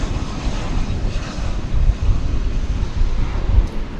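A Boeing 737-800 bound for Austin rumbles at DFW airport at night, its engines making a loud, steady low roar mixed with wind buffeting on the microphone, with no voices.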